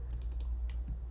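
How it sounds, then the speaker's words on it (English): Quick burst of light clicking keystrokes on a computer keyboard, close and fairly soft over a steady low hum, with no talk. "I can type new words in here just by typing here."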